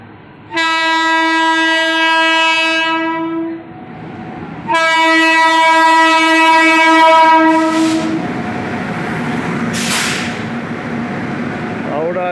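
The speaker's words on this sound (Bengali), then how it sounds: "ট্রেন যাচ্ছে একটা ট্রেন আসছে" A mail train passes through Durgapur station, sounding long, loud, blaring horn blasts twice, then rumbling and clattering past up close, with voices faintly under the noise.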